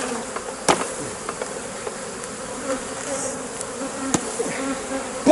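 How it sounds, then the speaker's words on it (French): Honey bees buzzing steadily around a hive as a frame is shaken to clear them off, a dense insect drone with a few sharp knocks of the frame. "ce cadre, on va le prendre, on va le secouer pour se débarrasser de toutes les abeilles"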